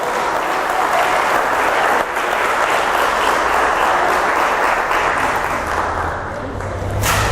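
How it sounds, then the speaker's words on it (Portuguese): A church congregation in Belo Horizonte, Brazil, applauds in a dense, steady wash of clapping that fills the room for several seconds, with a brief dip before it swells again. "Vamos dar uma salva de palmas ao Senhor."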